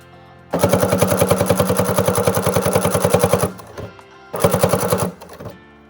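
A sewing machine top stitches the edges of a cloth face mask, a fast rapid-fire rattle of needle strokes running for about three seconds, a short pause with light handling, then another burst, close and loud.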